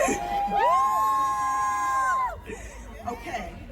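A crowd at a live stage event screams and cheers loudly as a singer is introduced, with one high shrill cry held over the din before it settles into excited chatter.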